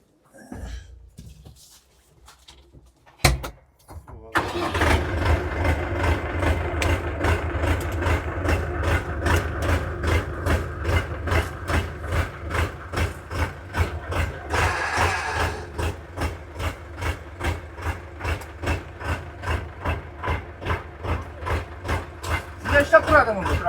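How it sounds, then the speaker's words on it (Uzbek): A new FORA 504 diesel tractor engine cranks and fires after a few quiet seconds, then settles into a loud, steady idle with an even pulsing chug that continues to the end. "ishlab turadimi bu traktor?"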